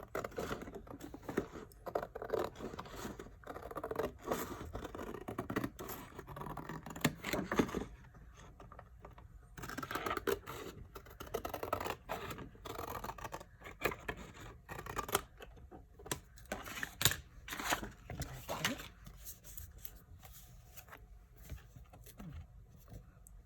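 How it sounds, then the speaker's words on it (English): Scissors snipping through material to cut out a notebook cover, faint and close, a long irregular series of small cuts and rustles of handled fabric or paper, with no talk. "And then cut it out carefully."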